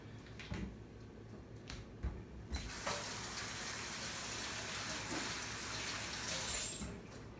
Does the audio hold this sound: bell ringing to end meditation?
no